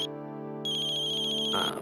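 A phone ringtone plays steadily, an electronic melodic tone that shifts pitch partway through, fairly loud and without talk.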